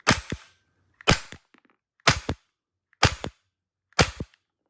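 Tokyo Marui HK USP Compact gas airsoft pistol firing five sharp shots, each a loud close crack with a quick gas-blowback double snap, spaced evenly about one second apart.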